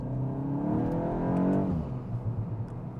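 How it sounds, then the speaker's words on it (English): A VW MK8 GTI fitted with an AWE Touring exhaust and an aftermarket intake pulls away from a light around 3,000 RPM, the engine note rising as it accelerates, then easing off with a few burbles from the tailpipe. "You still hear the intake sound with our intake set up on the car, and then you get a couple burbles out the back"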